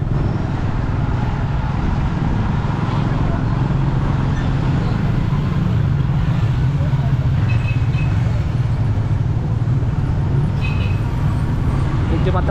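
Traffic on the Davao coastal road makes a continuous, fairly loud rumble of passing vehicles, with people talking over the steady road noise.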